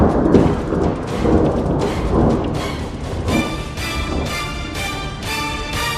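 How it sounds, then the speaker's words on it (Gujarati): Rolling thunder and steady heavy rain fill the whole stretch, with repeated loud rumbles and crashes over a constant downpour, no voices. "ભર ઉનાળે વાદળો ગરજવા અને વરસવા માટે તૈયાર છે।"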